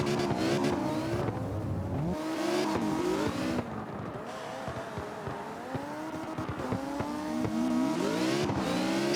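Drift car at open practice braking hard and sliding close behind another car, engine revving with shifting pitch and tires scrubbing, loud and continuous throughout.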